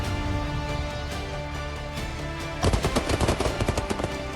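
A Tavor X-95 rifle, as carried by Indian special forces, fires a rapid burst of shots over a loud, dense music-like background, with rhythmic sharp reports starting partway through and continuing steadily to the end.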